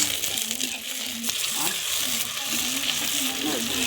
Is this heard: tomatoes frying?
yes